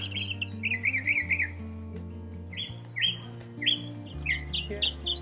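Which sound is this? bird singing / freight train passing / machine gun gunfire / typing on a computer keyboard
bird singing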